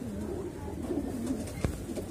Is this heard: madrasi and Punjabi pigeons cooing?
yes